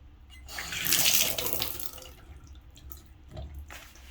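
Water runs steadily from a leaking faucet whose handle has been taken off and tampered with, a close hiss that swells and then thins toward a trickle.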